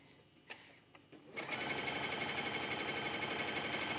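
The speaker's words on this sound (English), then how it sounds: "Continue to sew around." A sewing machine stitches binding onto a toddler's stretchy swimsuit, starting after a few faint handling clicks and then running at a steady, rapid, close mechanical rhythm for several seconds.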